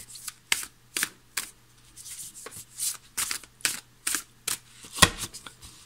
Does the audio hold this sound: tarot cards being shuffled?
yes